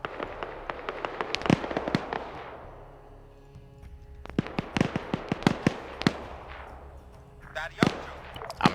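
Gunfire fills a tactical shooter game in two dense bursts of sharp, cracking shots with echoing tails. A quieter gap separates the bursts, and more scattered shots come near the end.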